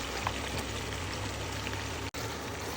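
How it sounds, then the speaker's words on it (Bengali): Chopped onions frying in hot oil with bay leaves in a pan, giving a steady, close, even sizzle with a brief break near the end. "এখন আমি এটা পেঁয়াজটা অ্যাড করবো এটার মধ্যেই।"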